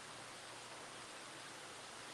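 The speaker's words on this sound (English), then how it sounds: "I can hear the rain." Steady, hissing rain noise fills the clip evenly, with no other sounds or voices.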